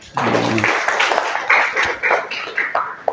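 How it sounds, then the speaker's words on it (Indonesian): An audience in a classroom session breaks into scattered clapping, a loose run of claps that follows a brief voice at the start. "Ya, tepuk tangan."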